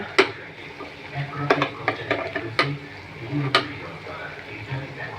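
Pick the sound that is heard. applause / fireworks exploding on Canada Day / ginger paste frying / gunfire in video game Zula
ginger paste frying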